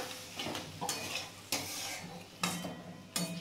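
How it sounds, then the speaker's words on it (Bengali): Small morola fish sautéing with spice paste and a little ginger-paste water in a pan, with a steady low sizzle broken by a few sharp stirring scrapes and clinks of a spatula, close up. "এই মাছটা দিয়ে আমি একটু কষিয়ে নেব"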